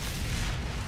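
A Hell Cannon blows up in DOOM: The Dark Ages, a dense, loud, sustained explosive roar filling the whole moment with no speech over it.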